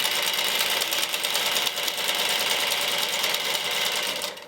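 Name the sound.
sewing machine stitching a sleeve head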